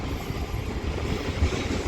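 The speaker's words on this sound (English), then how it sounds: "passing through over here is going to be a Freight Class 66 with DBR Cargo" A DB Cargo Class 66 diesel freight locomotive with its wagons passes through Reading station on the Great Western Main Line, giving a steady, fairly close rumble with rail noise throughout.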